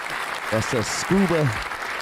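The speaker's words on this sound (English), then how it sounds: "let me get a round of applause for our guest" Studio applause for a guest on a podcast, a steady wash of clapping that runs the full two seconds beneath a voice speaking briefly over it.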